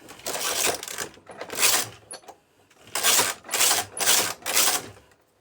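A domestic knitting machine carriage is pushed back and forth across the needle bed, a tiny weight hanging on the fabric, giving bursts of rattling, clacking mechanical noise, one pass after another with short pauses between rows.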